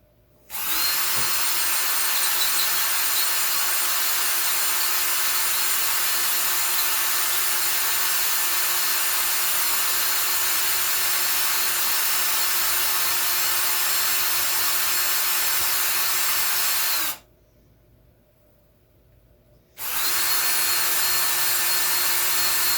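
A power drill bores into a ceiling during a 4-inch can light installation, a loud steady whine running continuously for about sixteen seconds, stopping briefly, then starting again near the end.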